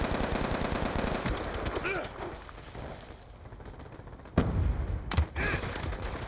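A weapon fires in multiplayer Call of Duty: Black Ops 2, with rapid automatic bursts at the start and a few sharp single shots later, moderately loud amid game ambience.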